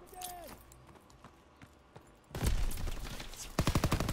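Gunfire from the Call of Duty WW2 video game begins after a quiet opening with scattered faint sounds, then breaks into loud bursts and ends in a rapid string of close shots.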